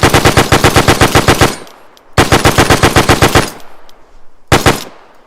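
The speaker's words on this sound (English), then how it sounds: "Opening fire." Loud, close machine-gun fire rattles out in three rapid bursts, the last one brief, with short gaps between them.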